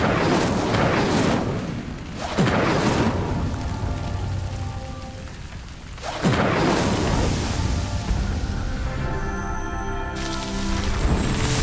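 A roaring Incendio fire spell from Hogwarts Legacy whooshes out in two long loud blasts, crackling and rumbling like a burst of flame, each swelling and slowly fading, with faint chimes at the end.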